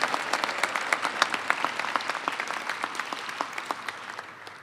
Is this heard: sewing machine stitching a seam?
no